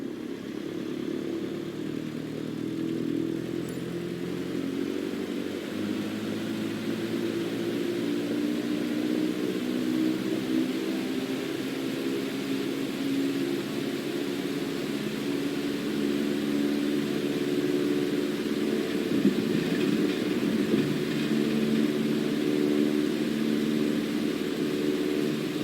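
A propeller airplane engine drones steadily in a flight simulator game while the aircraft taxis into position, a continuous, even engine hum with no talking over it.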